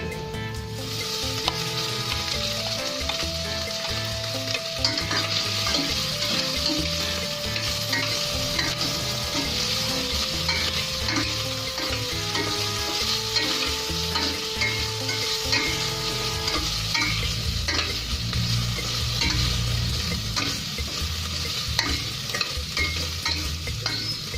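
Chicken pieces frying and sizzling in a hot pan for pancit canton, with steady loud crackle throughout and repeated scraping stirs of a utensil against the pan.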